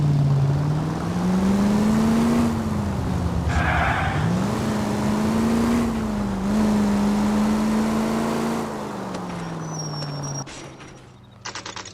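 A car in the 1940s Los Angeles of LA Noire drives along with a steady engine drone that rises and falls as it shifts and accelerates, fading lower near the end.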